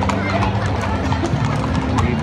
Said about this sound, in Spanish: Y bonito caballos que tienen.